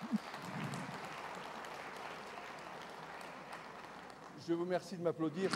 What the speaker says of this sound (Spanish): Gracias por aplaudirme.